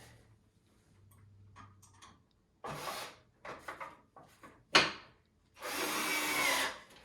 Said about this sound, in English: this is why you want to use the power tool rather than just a handheld regular old Phillips head